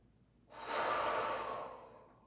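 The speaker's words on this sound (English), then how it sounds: "Breathe in, exhale." A single long, close breath through the nose or mouth during yoga practice, a soft airy rush that swells, holds and slowly fades over about a second, heard alone.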